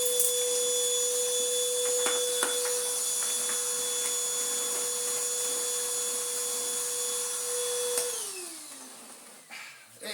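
A Miele Compact C2 24v cordless vacuum cleaner runs with a steady high-pitched whine and motor hum, then spins down as it switches off near the end, leaving faint handling noise.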